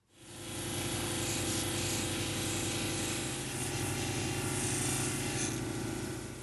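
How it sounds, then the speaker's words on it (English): Stone butterflies being polished against a spinning cabbing machine wheel, a steady close whirring grind with constant rubbing texture that holds evenly throughout with no talking. "So I'm going to do them on the cab machine here."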